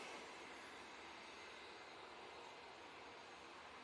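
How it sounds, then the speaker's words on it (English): An Embraer Praetor business jet passes at an airport, a steady, broad roar of jet engine noise holding evenly throughout, moderately distant with no voices. "Nice looking Embraer Praetor."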